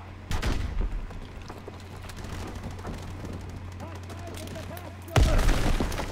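Gunfire in the World War II shooter Call of Duty WWII: scattered close shots and distant booming bursts over a steady background, ending in a louder cluster of blasts.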